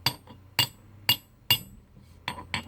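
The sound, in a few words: Osborne tack hammer being handled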